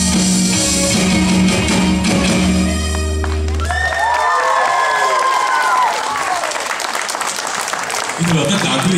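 A concert audience applauds and cheers for a young band at a music festival in Holland, with loud, sustained clapping and crowd noise that take over as the music ends and a presenter speaks over it.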